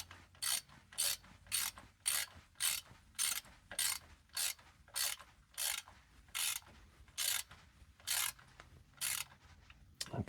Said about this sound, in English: our 3/8" ratchet, get the extension off of our torque wrench, and start tightening down.